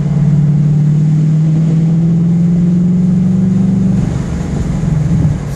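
2015 Ford Mustang GT V8 fitted with a Magnaflow exhaust and FRPP X-pipe accelerating on the street, a steady droning exhaust note climbing gently in pitch, then easing off, heard from inside the car.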